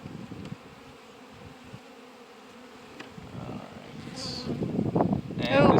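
Honey bees hum faintly inside an opened hive, a low steady buzz beneath a person talking, with louder buzzing rising near the end as bees come close to the microphone.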